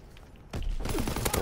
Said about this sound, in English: I switched to the grease gun on accident.